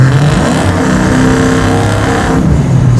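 A Chevy Chevelle with a 750-horsepower LS9 V8 accelerating at part throttle from about 50 mph, a loud, close, sustained engine roar with a rising pitch, no talk.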